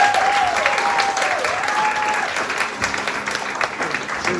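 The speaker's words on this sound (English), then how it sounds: "So I've got to give a round of applause for that" A crowd at a Welsh talent event gives Joey a round of applause: dense, steady clapping that thins slightly toward the end, with a faint whistling tone early on.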